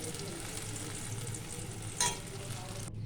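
Eggplant slices fry in hot oil in a pan with a steady, close sizzle, broken by a brief louder hiss partway through.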